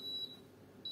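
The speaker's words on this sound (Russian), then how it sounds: "Вот, как видим, сработал таймер" A thin, high electronic beep from a Weissgauff gas stove's electric oven timer sounds twice, a brief tone followed by another after a short gap, faint against a quiet room.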